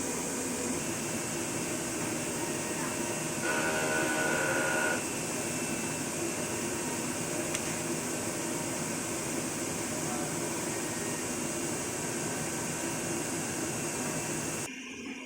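A DTF printer runs its head cleaning cycle in normal mode, giving a steady broadband mechanical whir and hum that holds throughout, with a brief louder pump-like surge partway in and an abrupt change near the end.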